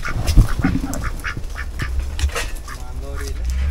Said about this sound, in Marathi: टर्की बघ, टर्की आहे.